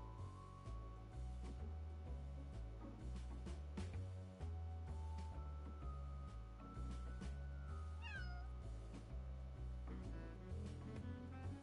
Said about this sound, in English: It meowed.